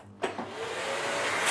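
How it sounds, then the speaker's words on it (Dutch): A household vacuum cleaner switches on with a click and thump, then its motor whine rises and holds steady, loud and close. "ik moet eerst mijn huis stofzuigen. En ik heb hier een hele mooie stofzuiger."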